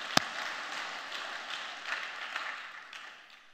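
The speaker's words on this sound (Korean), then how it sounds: "하나님 경외 박수 올려드립니다" A church congregation applauds in praise, a steady broad wash of clapping after one sharp crack at the start, tapering off toward the end.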